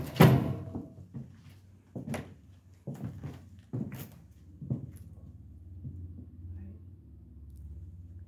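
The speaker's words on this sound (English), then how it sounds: "Door." Inside an abandoned hospital, heavy doors and fittings thud and clatter in a series of sharp, echoing knocks and bangs over several seconds, followed by a low rumbling scrape.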